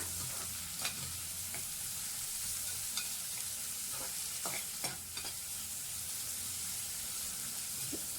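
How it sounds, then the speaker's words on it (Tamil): Onions frying in a pan for paneer biryani, a constant rain-like sizzle with occasional spatula scrapes and clicks against the pan, close and steady, no voices. "நல்லா வணக்கி எடுத்துக்கலாம்"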